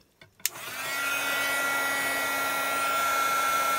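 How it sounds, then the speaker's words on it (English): A heat gun aimed at dabbed puff paint clicks on and settles into a loud, steady blowing whoosh that holds constant from start to finish. "And then you come back in with your heat gun."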